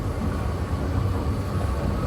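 An electric train ride in Thailand near Phetchabun station: a continuous low rumble of the moving train, steady and fairly loud throughout, with no voices.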